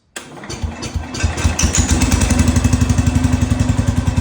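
Cub Cadet International 105 snowblower engine cranking to life with choke on in a cold garage, a brief sputter catching into a loud, rapid single-cylinder putter that settles into a steady, close idle.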